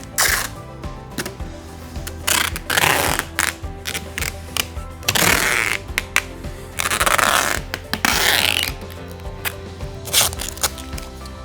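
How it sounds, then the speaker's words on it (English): Packing tape is pulled and run across the bottom of cardboard boxes in several loud ripping screeches, separated by clicks, rustles and handling noises. "So what we do is we'll run a line of tape right across the bottom."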